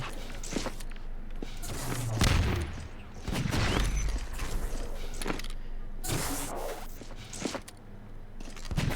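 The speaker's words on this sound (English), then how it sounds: "Afer will get a nice SMG kill" Rapid gunfire from Half-Life 2 Deathmatch, including SMG bursts, crackles in short volleys mixed with footsteps and other in-game effects during a one-on-one match.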